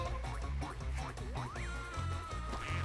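A cartoon duck quacking in the mobile game Angry Birds 2, a short nasal quack amid busy game music, swooping effects and bouncy sound effects.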